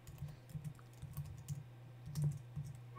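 Quick, light typing on a computer keyboard, soft irregular clicks in short bursts, close and quiet.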